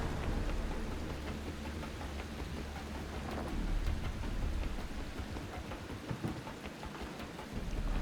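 Steady rain hiss from a thunderstorm in The Last Caretaker, with low rumbling underneath and a sudden burst at the very end.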